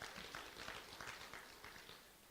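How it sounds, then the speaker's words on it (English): Applause from a conference audience, a dense, steady wash of many hands clapping at low level throughout, with no talk over it. "Another round of applause for Mr."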